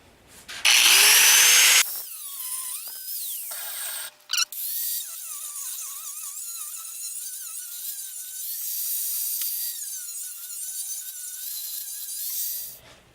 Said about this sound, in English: I am going to cut this off with the cutoff wheel